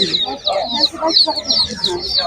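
Several hens and roosters at a rural livestock market cluck and chatter continuously in a dense close-up jumble of calls, with a human voice blended faintly underneath.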